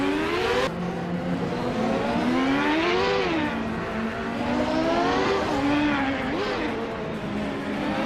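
Vintage 1995 IndyCar Lola and Penske race cars, including a Lola T95/00 and a Reynard 95i, race at Baskerville, their engines droning and rising and falling in pitch as they rev through tight corners, loud and continuous under a commentator's voice.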